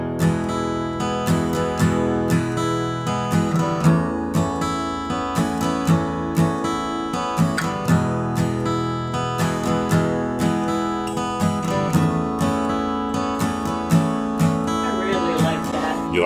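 Guitar strumming a mellow, folky verse chord progression, moving back and forth between chords in a steady rhythm at moderate volume, with no voices.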